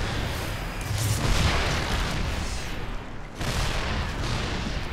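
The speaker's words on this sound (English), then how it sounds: "Low ground attack here with the siege tanks" Heavy booming volleys from siege tanks in StarCraft II during a low-ground attack on a Zerg player, with several loud blasts and rumbling impacts rolling over a dense battle backdrop.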